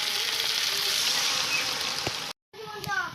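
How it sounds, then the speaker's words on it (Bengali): Frying spice paste with potatoes and vegetable stalks hisses steadily in a pan, broken by a brief silence before water is added and the sizzle returns with bubbling splashes. "মশলা কষানো হয়ে গেছে, তাই জল দিয়ে দিচ্ছি।"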